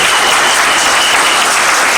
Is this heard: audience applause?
yes